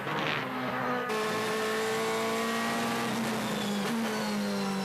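DTM race cars at the 2014 Moscow round roll slowly down the pit lane after qualifying, a steady droning engine hum with a faint whine, continuous and fairly close with no talk over it.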